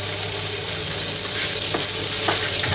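Garlic sautés in a hot pan with a steady, close sizzle and crackle and a few clinks of stirring, with no talking.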